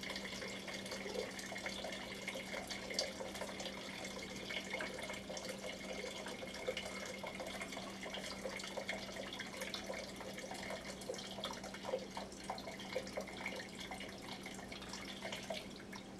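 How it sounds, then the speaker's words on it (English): A leaky faucet keeps dripping faintly after repair, with small irregular drips and ticks over a steady low hum in a quiet room. "we've still got a little bit of a drip"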